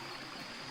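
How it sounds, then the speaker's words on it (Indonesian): A mountain river on the Senaning trail of Mount Rinjani rushing steadily, a continuous broadband wash of flowing water filling the scene at close range. "kita sudah sampai di sungai pertama yang kita seberangi"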